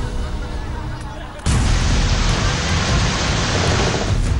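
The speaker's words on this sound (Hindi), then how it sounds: "बादल गरज भी रहे हैं और बरस भी रहे हैं।" Heavy rain pours down steadily in a city during flood-like conditions, a dense roaring wash that swells abruptly louder partway through and continues close and loud, with possible rumbles of thunder mixed in.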